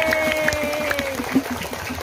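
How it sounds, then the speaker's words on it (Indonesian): Audience applause at a Maulid Nabi religious gathering, brief clapping from a crowd under a steady background hum, with no speech over it. "Sekali lagi tepuk tangan buat Ramus berbagi luar biasa."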